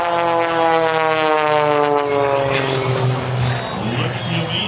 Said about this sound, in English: Look at the amazing controllability of the Princess 2S aerobatic biplane.